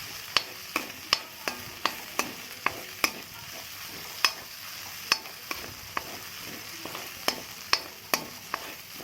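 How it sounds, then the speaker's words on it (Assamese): Ginger and garlic fry in a pan, a low steady sizzle punctuated by sharp, regular taps and scrapes of a spatula against the pan, close up and without voices. "এখন ভাজিব লগা আছে আদা নহৰুখিনি"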